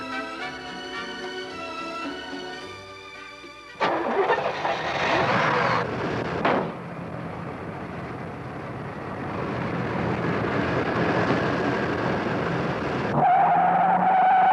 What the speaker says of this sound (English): When our driver wound it up and put his foot in it, she ran up to 30 in 3 seconds flat.